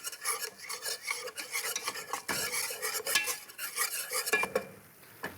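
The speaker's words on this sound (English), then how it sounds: "the water is boiling out of the butter, and that's actually what's bubbling like this." Butter bubbles and sizzles in a pan while a utensil scrapes and stirs it steadily, a dense continuous rasping and crackling close up, with no talking.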